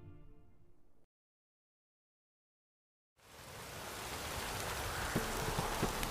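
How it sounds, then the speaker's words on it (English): Heavy downpour in The Witcher 3 game world: after a short tonal passage and a stretch of silence, a broad hiss of rain rises in and builds to a loud, steady wash. "This downpour's a bastard, it is."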